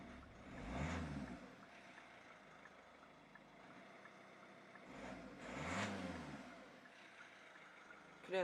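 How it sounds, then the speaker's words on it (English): A 2014 Kia Optima's engine rises and falls in two revving surges, with a thin high turbocharger whistle riding above the mid-range engine note at moderate distance. "You can hear that turbocharger whistling away."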